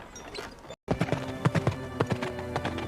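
Hooves of a horse ridden by a girl clip-clop in a quick, uneven series of sharp thuds after a brief silent gap, moderately close and with no one speaking.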